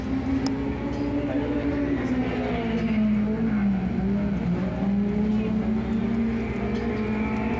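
Race cars run at Laurens County Speedway, a short-track racing event, producing a loud, continuous engine drone whose pitch rises and falls as the cars lap through the turns.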